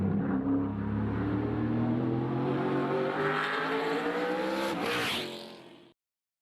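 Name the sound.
race car driving during the Phoenix race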